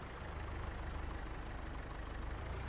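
A tractor's engine idling steadily in a wood lot, a low, even diesel rumble that stays quiet and constant throughout.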